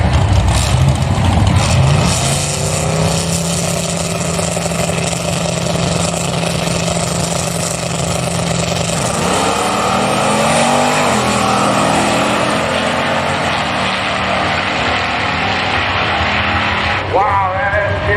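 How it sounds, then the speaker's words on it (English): Chevrolet S10 drag trucks roar down a drag strip at a race event, a loud sustained engine howl with rising and shifting pitch throughout, steady and close with no pauses. "Now we got a race of the S10s right here."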